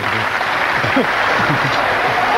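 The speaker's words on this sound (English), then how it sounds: "you always know there's going to be a clap on the 100" Audience applause in a snooker arena greeting a century break, a steady crowd clapping wash held at even loudness, with faint voices underneath.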